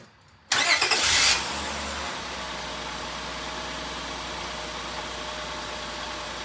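A 2003–2006 Honda Pilot starts on a freshly replaced starter: a short, loud crank after a moment of quiet, then the engine catches and settles into a steady, smooth idle.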